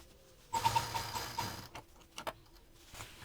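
A sewing machine stitches piping onto a fabric basket in one short burst of quick, rapid needle clatter, followed by a few soft mechanical clicks and handling sounds, fairly quiet and close.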